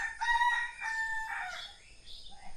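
A large rooster gives one full crow, a strained, rising then drawn-out call lasting a couple of seconds, clear and near with little else around.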